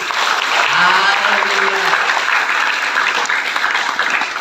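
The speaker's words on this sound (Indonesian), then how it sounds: "Tepuk tangan dulu." A church congregation at a GKII worship service claps loudly and steadily throughout, with a voice calling out over the applause.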